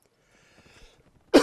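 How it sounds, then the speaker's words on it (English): A single sharp cough, close and loud, bursting out after near silence with only faint background murmur from a Mount and Blade Napoleonic Wars battle. "As I pause to cough."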